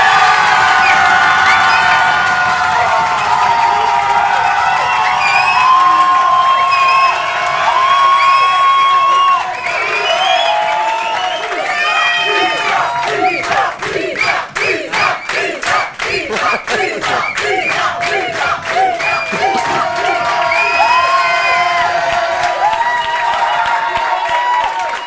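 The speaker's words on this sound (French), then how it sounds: "Il semble, à vos applaudissements, on l'a senti." A theatre audience applauds and cheers after a percussion performance, with sustained dense clapping, shouts and whoops throughout, loud and crowded, with bursts of rhythmic clapping in the middle.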